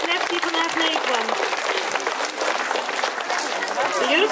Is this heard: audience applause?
yes